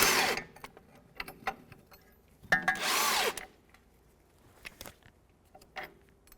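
A power tool on an 18mm socket loosens the upper pinch bolt on the front wishbone of a 2008-2012 Jeep Liberty, giving two short whirring bursts separated by quiet clicks and taps in a hushed workshop.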